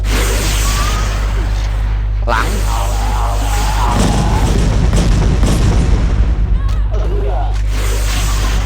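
A bomb stepped on in a shooting video game bursts as a heavy boom around the middle, with whooshes and gunfire-like bangs over a steady low hum, while a player talks.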